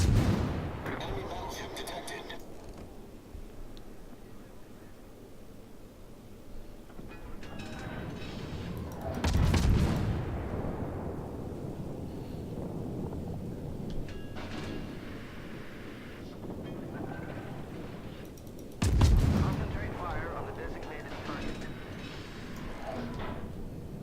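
World of Warships naval gun rounds: two heavy booming salvos about ten seconds apart over a steady rumble of engine and sea noise, with a voice talking throughout.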